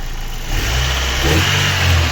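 A Daewoo Lanos 1.5 engine running after a cylinder head repair, a close, steady idle that rises briefly as it revs, smooth and even throughout.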